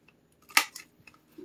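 Scissors trim a strip for a 12S2P 21700 battery pack on an electric skateboard build, giving one sharp close snip followed by a couple of faint clicks.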